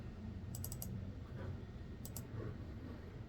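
Typing on a computer keyboard, two short quiet bursts of rapid key clicks over a steady background hum.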